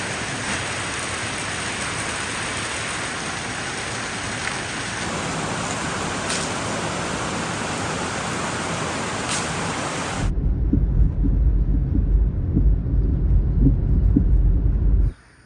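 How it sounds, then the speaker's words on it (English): Steady heavy afternoon rain in the Philippines hisses for a long stretch, then shifts to a deeper, rumbling downpour before stopping suddenly; no voices. "right on cue, here comes the rain"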